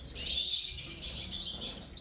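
Brown cobalt canaries and lesser redpolls chirping indoors in a birdroom; high, thin twittering trills in quick bursts, fairly close, with a short pause mid-way before the chirps resume.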